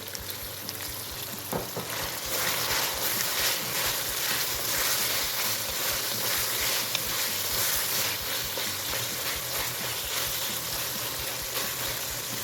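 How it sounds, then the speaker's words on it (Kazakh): Steady crackling sizzle of bell pepper frying in a pan for lagman, continuous and fairly close, with occasional soft stirring scrapes and no voices. "Бес минут қуырамыз"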